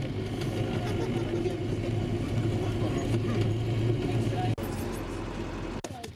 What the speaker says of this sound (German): Zunächst geht es mit dem Bus hinauf nach El Alto und dann über eine gut ausgebaute Schotterstraße